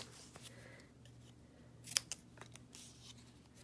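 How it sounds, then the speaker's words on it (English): Scissors hand-cutting a strip of cardstock for a handmade card, faint crisp snips with one sharper cut near the middle, in a quiet room. "this is just a strip, because I want to hand cut the Be Happy"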